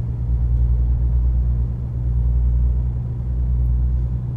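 A Peterbilt 579 truck engine in American Truck Simulator: a steady, loud, low-pitched diesel drone and rumble that holds an even level throughout, with no voices.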